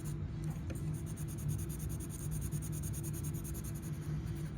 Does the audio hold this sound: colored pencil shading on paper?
yes